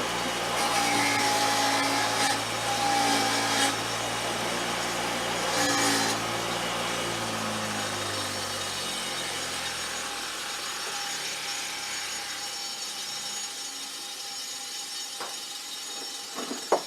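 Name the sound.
wire brush cleaning rust off rear drum brake parts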